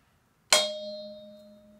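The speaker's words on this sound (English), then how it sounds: "So try the wood, hit with the wood." A small metal bowl held on an open hand and struck once with a wooden beater like a gong: a sharp clang that rings on with a clear, slowly fading tone.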